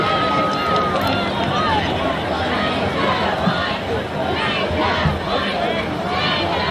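A crowd at a high school football game between Highlands and Knoch roars and cheers continuously, a dense wash of voices and shouts that swells and dips without a break.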